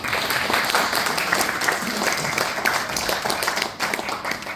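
Audience applause at a farewell ceremony, a steady burst of many hands clapping close and loud throughout, easing slightly near the end.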